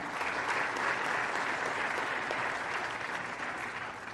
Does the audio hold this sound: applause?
yes